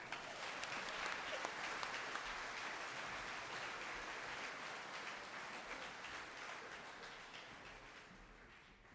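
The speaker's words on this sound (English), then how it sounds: "give her a round of applause as she comes on the stage" Graduation audience applauds as a student speaker walks on stage, a broad, steady roar of many hands clapping in a large hall that slowly fades over several seconds.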